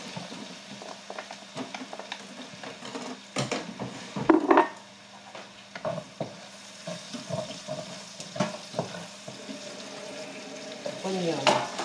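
Garlic frying in a pan for a Filipino menudo, with a low steady sizzle broken by repeated stirring scrapes and clatters, a louder burst of activity midway.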